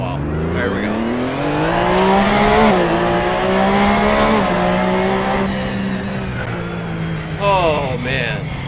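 A Porsche race car in a sim racing game revs with a loud, buzzy engine note and a high gear whine that rise and fall through shifts, with a brief squeal of cold tires.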